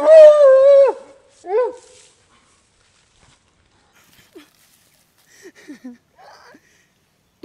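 A dog gives a drawn-out, loud whine followed by a short yelp, then only faint scattered sounds and near silence.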